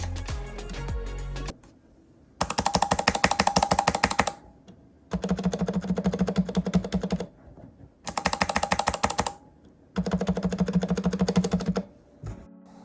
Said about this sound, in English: So we'll do a noise comparison between the blue switch and the cherry red MX silent switch.